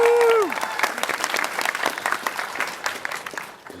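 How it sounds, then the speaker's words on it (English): A convention panel audience breaks into applause, a dense, loud patter of many hands that starts right after a short voice and then fades slightly over a few seconds. "A round of applause for Liesel."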